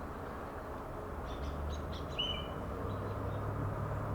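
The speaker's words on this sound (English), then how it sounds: "Birds chiming in." Birds sing faintly outdoors, a few scattered high chirps and one short whistled phrase over a low steady rumble of background noise.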